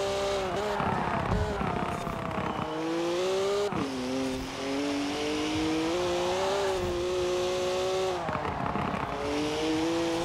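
A car engine in Forza Horizon 4 revs and accelerates steadily, its pitch rising and shifting through gears with brief drops at upshifts, loud and continuous with no talking.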